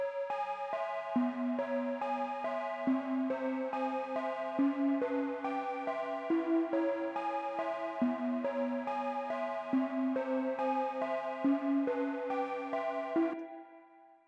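A melodic line of sustained tones steps along in a steady rhythm, low notes held beneath higher ones, fading out at the end with no voices.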